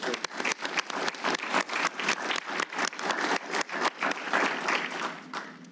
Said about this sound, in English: So give everybody a round of applause.